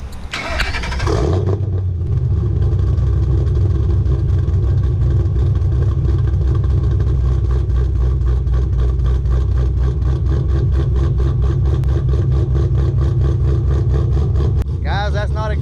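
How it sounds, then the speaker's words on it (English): Ford Mustang from 2010 with Ford Racing cams, long-tube headers, an off-road X-pipe and Stinger mufflers cranks to life with a loud burst, then settles into a choppy, lumpy idle that runs steadily close by, with a short rev near the end. "So the car has Ford racing cams in it. It's got long tube headers, off-road X-pipe, and two Stinger mufflers."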